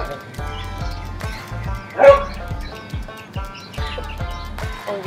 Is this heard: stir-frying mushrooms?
no